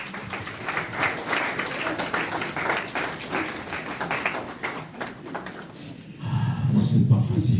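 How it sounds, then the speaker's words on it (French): Mourners at a funeral in Toulouse applaud steadily for several seconds, fairly close. Low murmuring joins near the end as the clapping thins. "Est-ce qu'on peut acclamer?"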